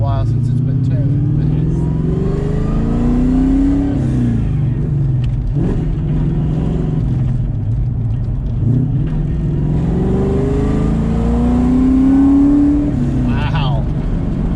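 Tuned 1996-2004 Ford Mustang on new tires driving and accelerating, engine droning loudly from inside the car with two rising revs through the gears, and someone talking over it.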